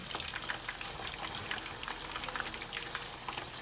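Hot wings frying in very hot oil make a dense, steady crackle and bubbling, close and fairly loud, with no talking.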